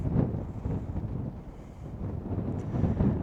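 Strong wind buffets across an open hilltop overlooking a river valley, a continuous low roaring rush with gusts swelling near the start and end, loud and close with no voices.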